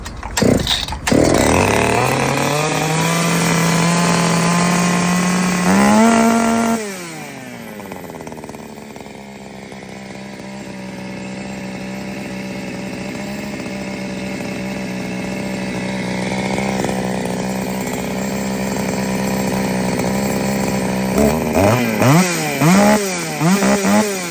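An Oleo-Mac GS-650 gasoline chainsaw starts with a loud pop and revs, then settles to a steady idle hum before revving up again with sharp bursts near the end.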